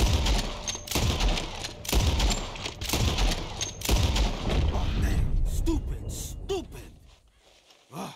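Gunfire in Red Dead Redemption 2 as birds are shot out of the sky: a run of loud, sharp shots at roughly one-second intervals, then a few scattered lighter sounds as the shooting stops.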